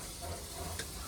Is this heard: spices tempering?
yes